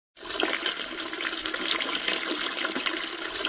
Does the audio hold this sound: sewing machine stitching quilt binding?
no